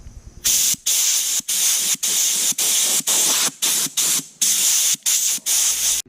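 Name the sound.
air compressor blowing off paint flakes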